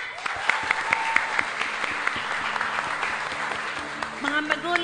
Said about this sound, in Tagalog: ang Panginoon ay talagang nangangailangan ng isang malakas na palakpak